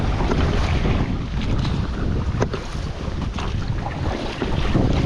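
Steady wind buffets a small river fishing boat out on the water, a constant loud roaring rush across the microphone with no pause for the whole stretch.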